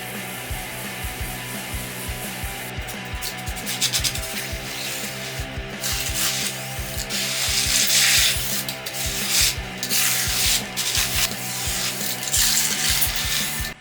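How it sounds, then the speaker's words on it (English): Continuous gritty scraping and rubbing of a tool through thick concrete mix in a bucket, steady and close, growing louder midway, with no talking. "So we're going to grab ourselves our mixing bucket, open this thing up, start mixing."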